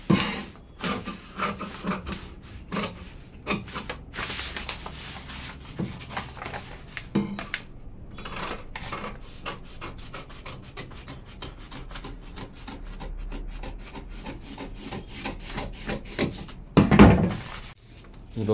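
Scissors cut blouse fabric in a series of soft, close snips and slides with light handling noises, fairly quiet throughout and one louder thud near the end.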